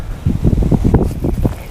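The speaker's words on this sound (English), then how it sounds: "That wind's turning me." Wind buffets the microphone on a fishing boat, a brief stretch of loud, gusty low rumble close to the mic.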